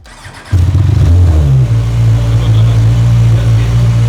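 A QJMOTOR SRK 921 streetfighter motorcycle with an aftermarket exhaust cranks and fires up on its first start, then settles into a loud, steady, close idle.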